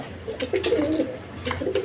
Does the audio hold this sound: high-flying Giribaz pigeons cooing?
yes